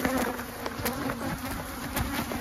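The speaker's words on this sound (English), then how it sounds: "Y'all probably couldn't even hear what I was saying because of the bees" Dense, steady buzzing of many honey bees swarming close by at a cotton pollination site, continuous throughout with no voices.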